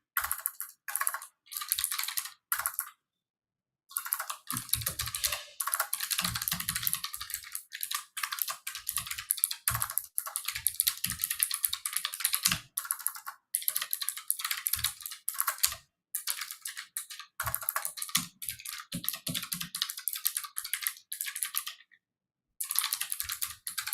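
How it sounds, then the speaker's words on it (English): Someone types on a computer keyboard in quick, irregular bursts of crisp, close key clicks, with short pauses between runs. "let me just type something on the chat for any of the newcomers to see"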